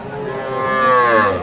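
A three-month-old bull calf at a cattle market gives one drawn-out, rising moo, close and clear, with no talk over it.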